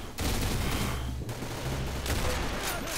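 Rapid bursts of gunfire in the Roblox game Arsenal crackle loudly and continuously, with two short breaks between volleys.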